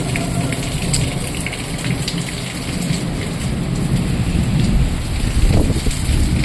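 Steady heavy rain pours down without a break in Patna, with low rumbling thunder rolling underneath and swelling briefly near the end.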